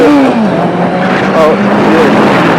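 A Honda motorcycle engine revs hard while being ridden at high RPM, a loud, close, steady roar with a wavering pitch that rises and dips through gear changes.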